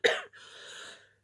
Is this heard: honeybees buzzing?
no